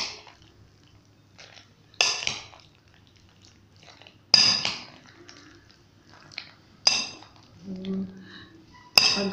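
Utensils scraping and clinking against a bowl while macaroni salad is mixed, in sharp separate bursts with quiet gaps between them, close up and without talk.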